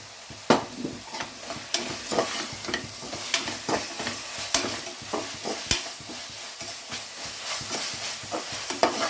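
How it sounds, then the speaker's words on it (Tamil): Onions and mushrooms sauté in a pan for mushroom pulav, a steady close sizzle broken by repeated scraping stirs of a spatula at irregular intervals, with no voices. "நல்லா வதங்கி வரட்டும்."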